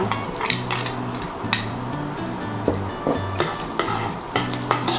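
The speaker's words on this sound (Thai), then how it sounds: "รอจนน้ำมันเติมเดือดก็ใส่กระเทียมเข้าไปนะคะ" Garlic sizzles and fries in hot oil in a home kitchen, with a spatula repeatedly scraping and tapping against the pan in an uneven rhythm, close and clear with no talking.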